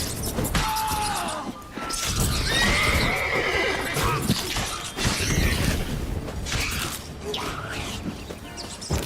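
Roach, the horse in The Witcher 3, neighs and whinnies loudly with hoofbeats clip-clopping underneath, amid a busy, dense mix of game sounds with scattered crashes and creaks.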